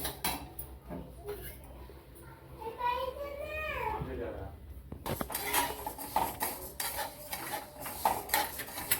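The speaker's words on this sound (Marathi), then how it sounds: "उडदाची डाळ पण अशी छान बारीक गॅसवर लाल होईपर्यंत भाजून घ्यायची" Urad dal dry-roasting in a pan over a gas flame, stirred with a metal spoon that scrapes and clinks against the pan, especially in the busy latter half, while voices talk nearby.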